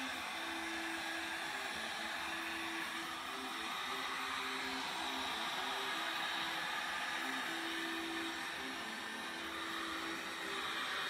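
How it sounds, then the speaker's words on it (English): Steady broadband blowing roar of a heat gun aimed at acrylic paint, with a faint whine running through it, continuous and close for the whole stretch with no voices. "Okay, so now I'm gonna get a heat gun."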